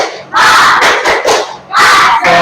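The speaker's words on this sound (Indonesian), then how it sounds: "Tepuk semangat." Schoolchildren in a morning volleyball class chant loudly together in bursts, with a rhythmic clapping pattern and shouted group voices.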